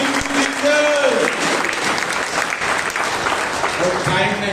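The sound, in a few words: congregation clapping at prayer meeting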